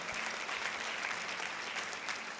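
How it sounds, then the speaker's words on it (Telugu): Church congregation applauding during a sermon, a dense, steady wash of many hands clapping together, sustained and moderately distant for the whole stretch. "అందరు గట్టిగా చప్పట్లు కొడదాం ఒకసారి"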